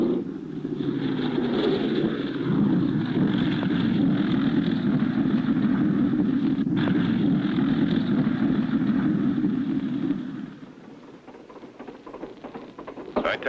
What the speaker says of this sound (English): I taxied the plane closer to the camp so we won't have so far to walk.